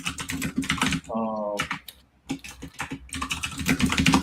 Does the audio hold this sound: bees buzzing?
no